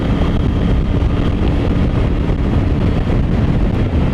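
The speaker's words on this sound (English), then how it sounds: "It's quite breezy" Steady, loud wind buffeting the microphone on a breezy stretch of the Suffolk coast, a continuous low roar with no pauses and no talking.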